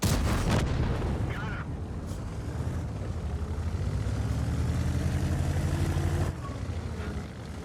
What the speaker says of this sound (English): Here I tried to shoot the PTZ-78 on the hill, but I was impatient, so I obviously missed.